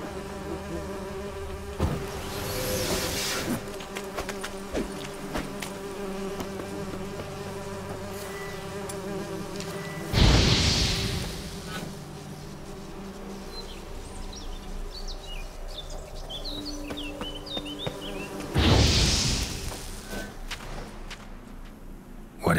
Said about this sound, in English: Yeah, bees.